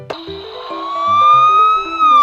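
An ambulance siren wails with a single sustained rising and falling tone, growing louder as it nears, with no voices present.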